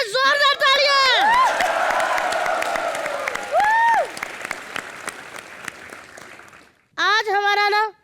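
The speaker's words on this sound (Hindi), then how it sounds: "जोरदार तालियां" A studio audience at a Hindi TV comedy show claps and cheers loudly, with whoops and rising tonal sound effects over the applause, which fades down before a short final burst.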